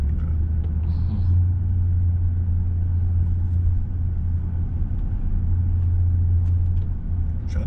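A car driven by a learner teenager rumbles steadily with a low, continuous engine drone, close and loud throughout, with faint faster sounds near the end and no talk.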